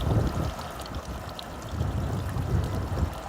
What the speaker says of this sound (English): Water flows down from the top of the towers.